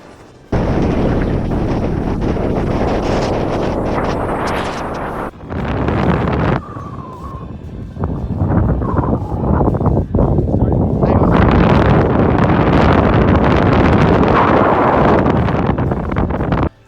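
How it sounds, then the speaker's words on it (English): Strong wind at White Sands National Park buffeting the microphone in loud, roaring gusts that rise and drop out briefly, with a person talking faintly underneath. "we're here on a very windy day"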